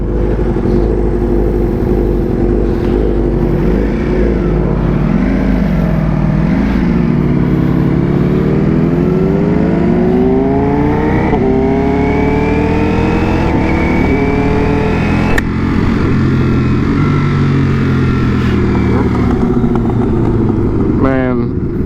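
A 2022 Ducati Panigale V4 engine drones loudly and steadily while ridden, its pitch sweeping and climbing through the gears, with strong wind rush and a rider's voice talking intermittently over it.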